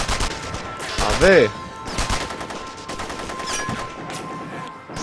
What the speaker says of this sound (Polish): Kto tam strzela?